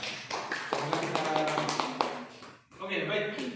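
A class claps together in a short run of quick, even taps mixed with voices, then talking carries on after the clapping ends.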